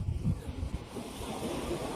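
Sea waves surging on the shore at Bhavnagar, heard as a continuous rough wash of surf with gusty wind buffeting the microphone, fairly quiet and steady throughout.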